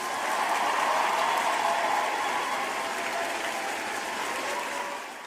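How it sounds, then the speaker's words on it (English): A crowd's applause rings out at the close of a livestream, a dense, steady wash of clapping that holds loud for several seconds before tapering slightly at the end, with no talking over it. "Round of applause for y'all real quick"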